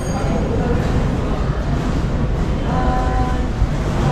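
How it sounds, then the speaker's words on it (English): A train arriving at a station in Sri Lanka, with a loud continuous low rumble of rolling cars and a faint squeal partway through. "So this is the train coming"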